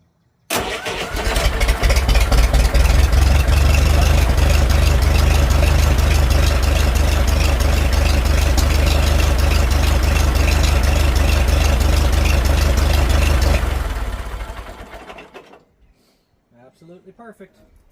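A Farmall 450 tractor with PerTronix electronic ignition, running on gas, cranks and fires almost at once, then holds a loud, steady low idle up close for about thirteen seconds before it shuts down and goes quiet.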